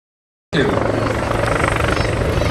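A military heavy helicopter from a Marine Reserve heavy helicopter squadron flies at a helicopter air show, its rotor and turbine roar bursting in loud and steady after a brief silence and holding close and constant.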